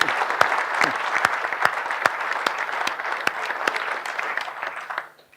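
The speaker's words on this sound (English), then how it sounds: "do you want to pause for a clap" A small audience at an electric vehicle discussion claps for the expert panel, with distinct individual hand claps standing out over a steady patter of applause that fades and stops near the end.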